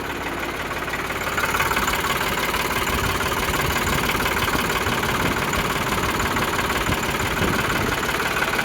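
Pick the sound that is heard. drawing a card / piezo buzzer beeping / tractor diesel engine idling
tractor diesel engine idling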